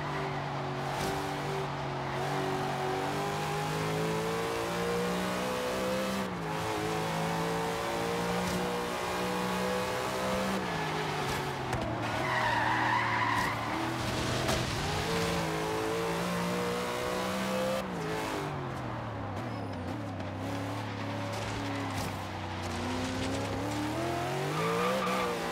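Car engine in the Forza Horizon 3 racing game, revving up and down through gear changes with repeated tire squeals and skids, loud and continuous throughout.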